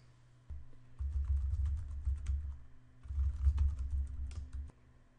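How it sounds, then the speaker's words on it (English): Keys clatter on a computer keyboard as a passphrase is typed, in two steady bursts of close, soft tapping separated by a short pause, with no talking. "I will make sure to obscure my password as I type it"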